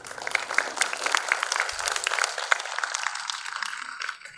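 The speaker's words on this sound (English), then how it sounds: "So with a round of applause, please welcome Mr. Sagar Puranik," An audience at a filmmakers' event applauds steadily, a soft patter of many hands clapping at a moderate distance that fades slightly toward the end.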